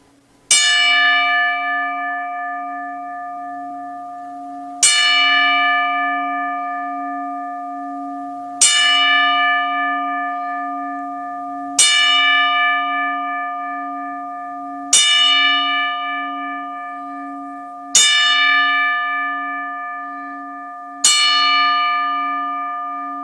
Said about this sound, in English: as we told the bell 10 times for Jim Crockett Jr.